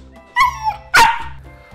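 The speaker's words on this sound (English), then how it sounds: "We're gonna have Kip talk to our dog because he keeps on eating his poop." A dog barks twice, close and loud, the second bark sharper and stronger, with short tonal yips between and a quiet pause after.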